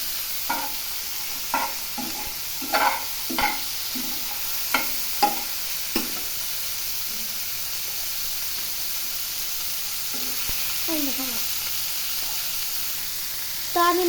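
Large freshwater prawns frying in a pan over raised heat give a steady hiss of sizzling oil, broken by several sharp scraping and stirring knocks in the first half and a few softer clatters later.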